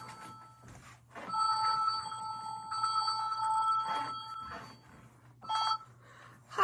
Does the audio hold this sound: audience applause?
no